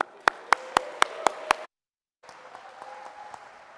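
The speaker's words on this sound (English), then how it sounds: "Hoot, hoot, the crowd roars." Audience at a startup demo day applauding, with several sharp, evenly spaced claps over a broad crowd wash, then a short silence before another softer round of clapping and cheering.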